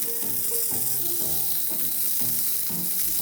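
Radish leaves sautéing with garlic in a hot pan give a steady close sizzle, with soft rhythmic stirring scrapes repeating throughout and no talking.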